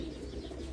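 Pigeons on an Abu Dhabi rooftop coo faintly and softly in a short, low murmur, with no talk over them.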